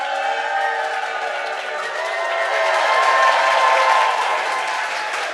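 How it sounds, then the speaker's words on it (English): A live audience at a CreativeMornings New York talk cheers and applauds steadily, a dense wash of clapping and crowd noise that swells slightly midway and holds without pause. "can you just cheer for Copy and his team?"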